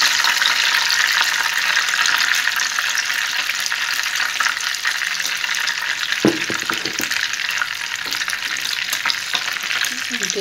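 Cabbage rolls fry in a pan of hot oil with a dense, constant close sizzle throughout, broken by a few small clinks and stirring touches near the end.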